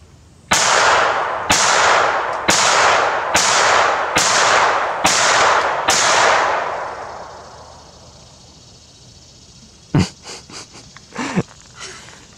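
A Kel Tec P17 pistol fires seven sharp, loud shots at a steady rhythm, each ringing out outdoors, followed by fading echo and a few quieter clicks and handling noises.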